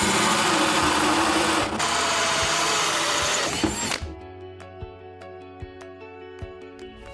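A 1.5 inch hole saw on a power drill cutting the corners of a cutout in an Elkay quartz sink, a loud continuous grinding whine that stops abruptly, followed by quieter clicks and knocks.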